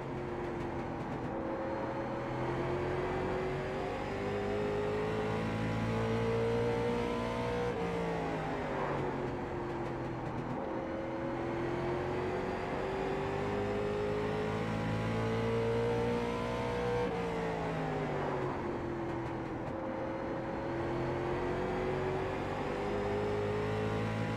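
A late model race car engine drones and rises in pitch as it accelerates through laps at New Smyrna in iRacing, a steady loud whine swelling and easing in repeated cycles, with no talk.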